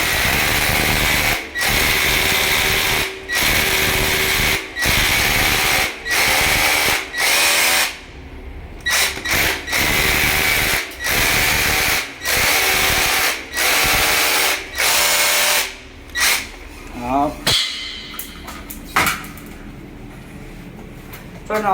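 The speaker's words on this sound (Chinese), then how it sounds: "钻好孔就可以塞这个塑胶塞。" A power drill bores holes into a wall for plastic wall anchors, running in repeated loud bursts of high whine separated by short pauses, with scraping and handling noises near the end.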